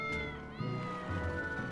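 Cats in the Tales of Berseria video game give a couple of short, quiet tonal meows over a faint musical background.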